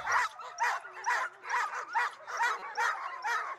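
Sled dogs at the Pedigree Stage Stop dog sled race in Driggs bark and yip in a steady, excited rhythm, about eight repeated bursts close by, with no other sound competing.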